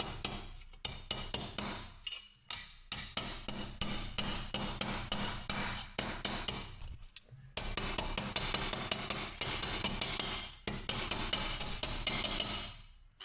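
Rapid metal hammer blows straighten the bent hub casing of a 2006–2012 Toyota RAV4's front wheel bearing hub, loud and close in dense fast bursts with a few short pauses between runs.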